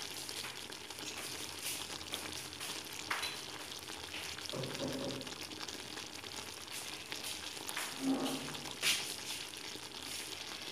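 A chicken, crème fraîche and chopped parsley filling sizzles and simmers in a pan, giving a steady, soft frying hiss with occasional stirring scrapes and clinks, quiet and without talk.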